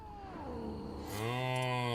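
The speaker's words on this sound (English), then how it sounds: "come on, Kitty, play nice." A cat meows in Witcher 3: Blood and Wine, a drawn-out, gliding meow in the first half, then a louder, sustained harmonic yowl, close and alone with game ambience beneath.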